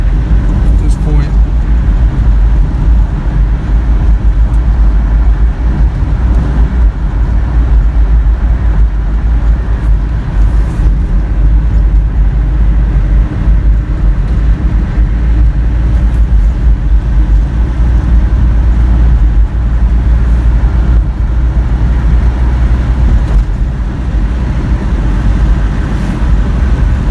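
A 1985 Toyota pickup driving down a mountain road, its engine and road rumble a constant heavy low drone heard from inside the cab.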